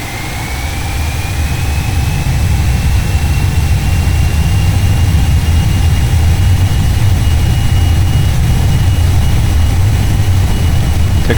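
Boeing 737 Classic jet engines spooling to takeoff power in an X-Plane 11 flight simulator, a loud steady roar with a rising whine, continuous and close throughout.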